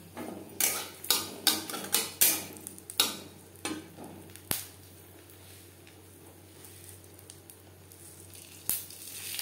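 Two broken dried red chillies dropped into hot mustard oil for a chutney tempering, with a series of sharp clinks and stirring clatters early on, then a quiet sizzle with occasional taps.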